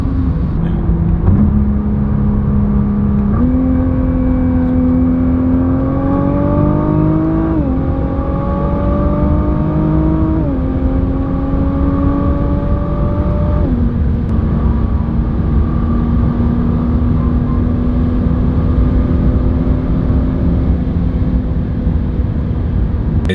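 A 2017 Nissan GTR driving at speed on a snowy road, its engine droning loudly and steadily inside the cabin with light, feathered throttle, the pitch rising and dropping in several stepped gear changes.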